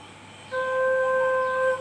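A recorder plays a single soft, low sustained note, steady and clear, held for over a second against quiet background hiss.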